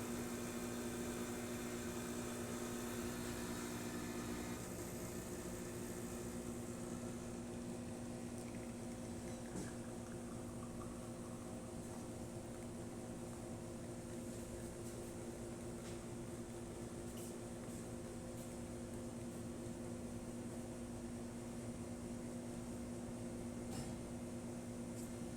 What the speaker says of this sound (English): So let's make espresso shot in it.